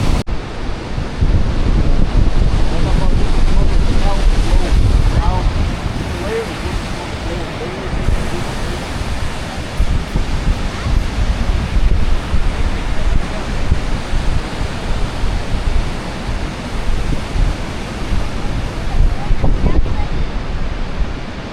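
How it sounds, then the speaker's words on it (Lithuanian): Sea waves wash in and wind blows hard at a Lithuanian seashore, a loud, continuous roaring surf with gusts buffeting the microphone throughout. "kaip jūra gražiai atrodo"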